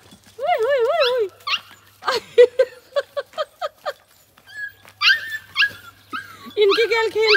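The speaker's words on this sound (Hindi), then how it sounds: "देवा छोटे छोटे पिल्ले देख जल्दी आ।" Small puppies whimpering and yipping up close in repeated wavering cries, broken by short sharp yips, while people talk over and between them.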